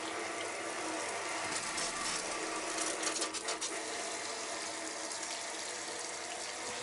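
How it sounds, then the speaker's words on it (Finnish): A shower spray runs steadily, rinsing gold-panning waste sand with a constant close hiss of water. Faint ratcheting clicks come through the middle. "otetaanpa tuo suihku taas päälle ja aletaan huuhtelemaan siitä."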